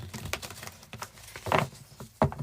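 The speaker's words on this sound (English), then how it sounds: "Quick shuffle." Tarot cards get a quick shuffle, giving a few soft papery riffles and taps in irregular bursts, close and fairly quiet, with two sharper snaps near the end.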